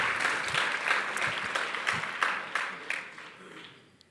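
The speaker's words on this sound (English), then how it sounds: "Let's give him just a final round of applause for that achievement." At a gala dinner, a crowd gives a final round of applause for Almero's achievement, a fairly distant, moderate spread of clapping with some individual claps standing out, fading away over about four seconds.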